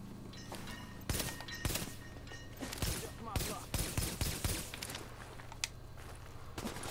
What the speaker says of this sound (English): he's shooting his rather large machine gun